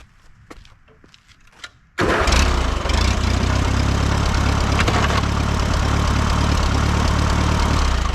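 A tractor engine kicks into life after a quiet stretch of faint ticking and small sounds, then runs steadily and fairly loud with a constant mid-pitched drone.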